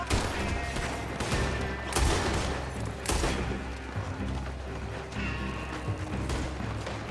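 Repeated gunfire erupts in a Red Dead Redemption 2 shootout, a dense fusillade of loud shots and crashing impacts across the whole stretch, with occasional shouting mixed in.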